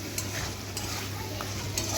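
Jackfruit frying with cumin and coriander spice while being stirred in a pan, a steady close sizzle with a few brief scraping clicks, no talking.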